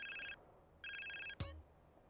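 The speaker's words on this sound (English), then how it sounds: "And my phone's ringing, man." A phone rings in GTA San Andreas Definitive Edition on PS5, two bursts of electronic trilling tones separated by a pause, followed by a sharp click and low thump, with no talking.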